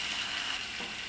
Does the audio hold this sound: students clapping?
no